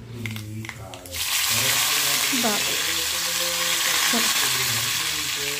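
Spices for sambar tadka hit hot oil and burst into a loud, steady sizzle after a quieter opening, with brief clinks and stirring scrapes over the hiss.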